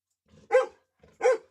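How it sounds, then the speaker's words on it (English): A dog indoors barks twice in quick succession, each bark short, sharp and close, with a soft lead-in before each one and a brief pause between them; no one speaks. "The one running around is my wife's dog and barking."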